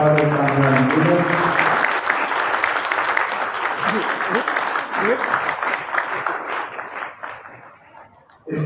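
Applause from the audience at a Bible Marathon 2025 opening ceremony as Father Kaman Yunus is welcomed. Strong sustained clapping builds and then thins, with a voice speaking over it early on and the clapping fading toward the end.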